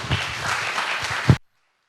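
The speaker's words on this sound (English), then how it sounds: "Let's all give him a very big round of applause for representing Mangalore." A live audience claps in a short, dense round of applause at an MC-hosted event in Mangalore, steady and fairly loud for over a second before cutting off abruptly.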